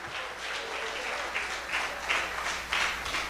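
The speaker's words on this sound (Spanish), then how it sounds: "Alguien puede dar una ofrenda de aplauso al que vive el día de hoy." A church congregation applauds in a steady, full wash of clapping with a few louder swells, continuing without a break and without speech on top.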